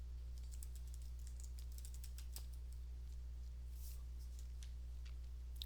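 Someone typing on a computer keyboard while entering a name in a spreadsheet, a quick run of light, close key clicks over a steady low electrical hum, with no voices.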